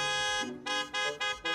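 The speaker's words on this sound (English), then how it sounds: "except for the blaring car horns outside" Car horns blare outside in repeated long blasts with short breaks between them, loud and sustained, with no voices heard.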